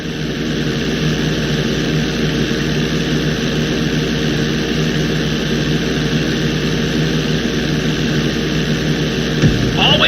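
A plane in the video game GTA V takes off with a steady, droning engine hum that stays loud and constant throughout, with a brief click near the end.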